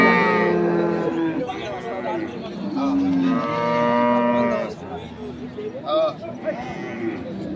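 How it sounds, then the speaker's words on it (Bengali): Dairy cows at a cattle market in Ambari, Dinajpur, give repeated loud, drawn-out moos, close and overlapping, with people talking throughout. "দুধের গরু"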